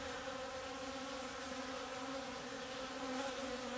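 Honey bees crowd around a marked queen inside a hive, a soft, steady buzzing drone of many wings close up, faint and continuous with no voices.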